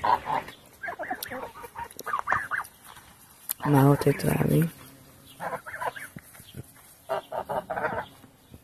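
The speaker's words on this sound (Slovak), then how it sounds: "husy, potom tie normálne morky, klasické, hrabé, tie ako divé, kačky a viac sliepok" Farmyard fowl in a garden, with geese, turkeys, ducks and hens, give out clucks and honking calls in short bursts. A louder goose-like call stands out midway, and a person talks nearby between the calls.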